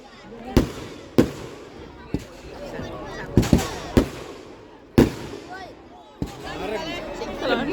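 Fireworks bursting outdoors, a series of loud sharp booms at irregular intervals with crackling tails, over a crowd's background murmur and some voices talking.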